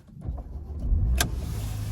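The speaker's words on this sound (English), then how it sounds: "So let's just start it up right here." Key-turned start of a Porsche Macan: a brief starter whir with a sharp click, then the engine catching and settling into a steady low idle hum, heard close up with no talk.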